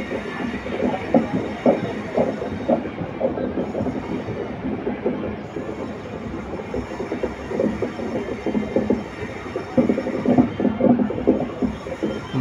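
A passenger train runs along a winding mountain railway between Palakkad and Salem, wheels clattering in a rhythmic clickety-clack with rumbling and occasional squeal, heard steadily from on board with no talking.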